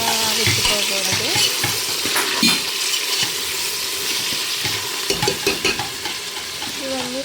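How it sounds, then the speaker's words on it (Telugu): Vegetables and chopped coriander fry in a pan for mutton biryani curry, with a bright, steady sizzle broken by metallic stirring scrapes and clinks up close. "కట్ చేసి పెట్టుకున్న కొత్తిమీర కూడా వేసుకొని ఫ్రై చేసుకోవాలి."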